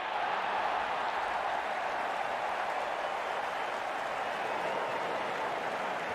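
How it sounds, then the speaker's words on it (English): A cricket crowd in a stadium roaring and applauding as the opening batsmen walk out, a dense, steady wash of cheering and clapping that holds at constant loudness throughout. "Openers walking in and the crowd cheering in anticipation."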